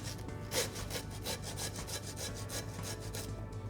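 A hand saw cuts down through a lamb's backbone in a butchery breakdown, making steady rhythmic rasping strokes of blade on bone, close and fairly loud, with no talking.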